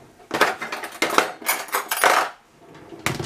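Spoon clattering against a bowl while stirring an avocado and tuna salad with lemon, several close scraping clinks in quick bursts, then a short pause and one more stroke.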